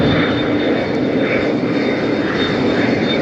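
United airliner landing in gusty crosswind at Las Vegas, a loud continuous jet engine roar with a thin high whine, steady throughout and heard from nearby.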